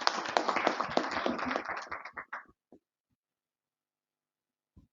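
Applause at a tax seminar on TDS and TCS amendments: a short burst of audience clapping that stops after about two and a half seconds, followed by near silence and a few isolated taps.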